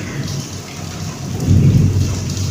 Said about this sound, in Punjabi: ਬੱਦਲ ਦੀ ਗਰਜ ਕਿੱਦਾਂ ਬੱਦਲ ਗੱਟਦਾ ਹੋਇਆ